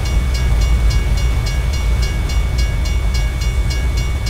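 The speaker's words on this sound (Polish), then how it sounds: "O, będzie jechał chyba pociąg." Train passing in American Truck Simulator, a loud, steady rumble with regular rhythmic clicks of wheels over rail joints, continuous and near.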